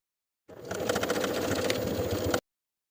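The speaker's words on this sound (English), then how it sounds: "I'm going to sew a bar tack through all thicknesses to secure the fly shield in place" A sewing machine sews a bar tack through thick layers of denim on a jean skirt fly shield, giving a short, even mechanical whir about two seconds long that starts and stops abruptly.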